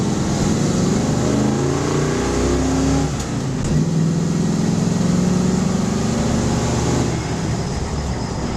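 A 1969 Ford Bronco's engine runs steadily while the truck is driven, a loud, continuous low rumble that swells and dips with changing revs, recorded close with no talking over it.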